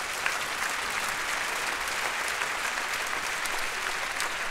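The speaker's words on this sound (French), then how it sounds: "On peut les applaudir." Audience at a circus artists' festival applauding the conductor and orchestra, a continuous dense wash of clapping held at steady loudness throughout.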